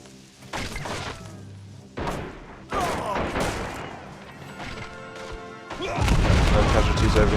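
Land mattress rocket launcher firing in the Men of War video game: a series of heavy booms and crashing impacts arriving in bursts, loud and close, with a thick rumbling barrage building toward the end.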